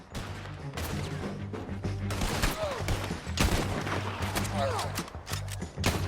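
Gunfire in the video game Red Dead Redemption 2, a steady run of shots and crackling volleys across the whole stretch, with a game score underneath.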